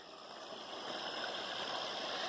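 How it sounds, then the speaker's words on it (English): A small creek flowing into the Kennebec River, heard as a steady, soft rushing and gurgling of water that holds at an even, fairly quiet level, with no voices. "Here's the confluence of this other little creek"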